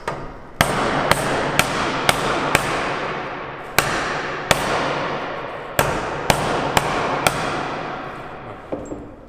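Repeated sharp hammer blows drive a metal bracket flush during assembly of a wooden chalet kit (Menton model), about a dozen loud, ringing strikes in irregular bursts with brief pauses, no talk.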